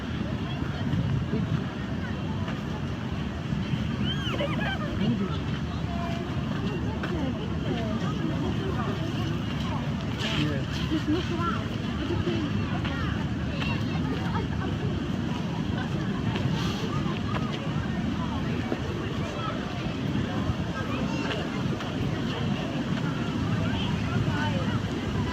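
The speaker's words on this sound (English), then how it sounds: "Here are some beautiful fountains in front of the Trocadero." Fountains in front of the Trocadero in Paris give a continuous rushing wash of splashing water, steady and fairly loud, mixed with wind buffeting the microphone.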